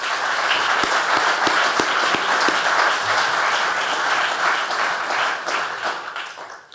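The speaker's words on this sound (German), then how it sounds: "Applaus" Audience applause at an award ceremony for the Dr. Hans Riegel subject prizes in a university forum hall, a dense steady clapping of many hands that stays loud throughout and fades slightly at the end.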